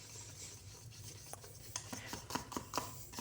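Repeated scraping and stirring of fluid-art pigment in a cup, a quiet steady rubbing texture broken by several sharper scrapes against the bottom and sides, close and alone.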